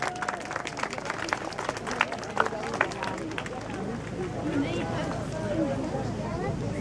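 An outdoor audience at a Vauban light show in Longwy claps, with dense, steady applause and crowd murmur under a speaker's voice at first, then the clapping carries on as a continuous wash.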